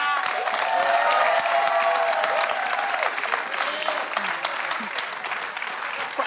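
A studio audience on a Portuguese late-night TV comedy show bursts into loud, sustained clapping and cheering that stays dense for several seconds and then gradually thins out.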